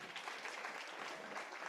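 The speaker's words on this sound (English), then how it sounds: "Please, they deserve another clap." Audience at a business leaders forum applauds visiting guests from Burundi, a steady wash of many hands clapping at moderate, fairly distant level throughout, with no voices over it.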